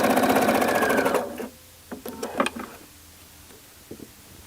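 A sewing machine stitches a jacket during a sew-along, running in a steady rapid chatter for about a second before stopping, followed by scattered clicks and light handling noises.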